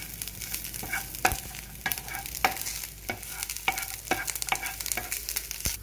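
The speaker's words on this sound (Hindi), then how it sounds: "फिर हम डालेंगे कड़ी पत्ता, इसको हल्का सा भून लेंगे हम।" Ginger pieces and curry leaves fry in hot oil in a pan for Mysore masala dosa filling, a steady sizzle broken by regular scraping stirs of a spoon or spatula, close and without talk.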